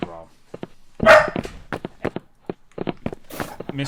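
A dog barks once sharply at close range, then a string of short yips and thumps follows amid light movement and a voice speaking nearby.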